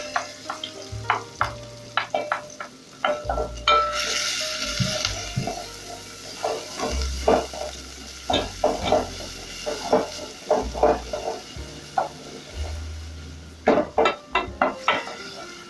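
Onions fry in a tablespoon of hot cooking oil in a pan, a steady sizzle under repeated scraping and stirring clatter of a utensil against the pan, close and busy throughout.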